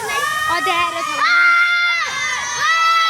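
A crowd of children shouts noisily and excitedly during a night cycle ride in Damak, Jhapa, Nepal, with overlapping high voices calling out close by and loudly throughout.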